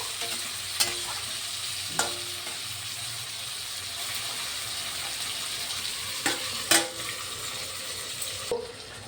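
Chicken and potato curry stirred in a pan after simmering under a lid, a steady bubbling sizzle with a few sharp spatula scrapes and knocks, close by and with no talk.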